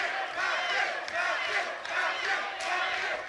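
A crowd at an MMA fight at Edgbaston Stadium roars and cheers continuously in surging waves, loud and sustained throughout with no clear talk on top.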